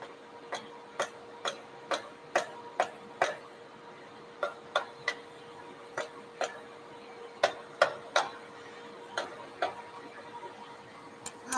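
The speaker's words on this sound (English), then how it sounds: "when pull pins let go of the plastic, they'll usually make a loud tick sound that sounds like it broke" Plastic pull pins releasing from moulded MH51 and MTT43 tanks during demoulding, a string of sharp, fairly loud ticks at irregular intervals over a steady faint background hum.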